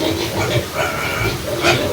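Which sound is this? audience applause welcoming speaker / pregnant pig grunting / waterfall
pregnant pig grunting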